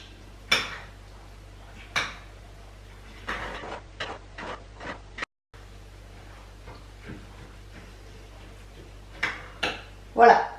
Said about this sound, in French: Je mélange.